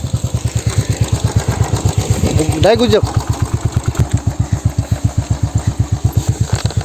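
Motorcycle being loaded at a river ghat ferry crossing, its engine running with a steady close thumping idle pulse throughout, and a person speaking briefly over it midway.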